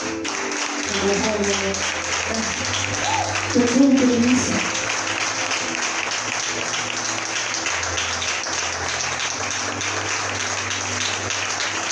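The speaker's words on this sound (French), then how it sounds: "S'il vous plaît, avec les acclamations." A conference audience at a church gathering applauds and cheers in a long, steady roar of clapping, with a voice speaking and brief shouts rising midway.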